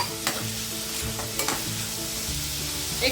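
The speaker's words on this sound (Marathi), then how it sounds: "छानपैकी असं सोनेरी रंग येतोपर्यंत आपल्याला हा कांदा आता परतून घ्यायचा आहे" Onions fry in a pan for egg bhurji, giving a continuous crackling sizzle. Periodic scraping clatters of a spoon stirring them cut through at a steady pace.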